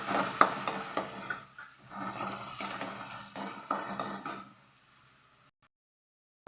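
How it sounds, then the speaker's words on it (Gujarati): Finely chopped onions stir and sizzle in hot oil seasoned with asafoetida in a home kitchen pan, soft frying crackle broken by repeated spoon scrapes, fading out near the end. "ડુંગળીને ધીમા ગેસે લાઇટ બ્રાઉન થવા દેશું"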